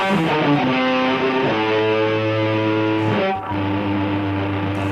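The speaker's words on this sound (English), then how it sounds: "If a song were to end with a guitar solo, it might sound like this." A sustained, distorted electric guitar rings out in long held chords, loud and thick with amplifier noise, changing pitch a couple of times.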